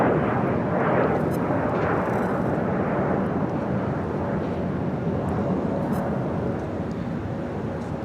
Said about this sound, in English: We also have China Southern Cargo 777 freighter getting ready to take off to Shanghai